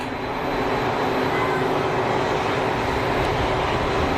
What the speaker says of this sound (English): Looks like an easyJet on finals. It's a 320 in from Gatwick.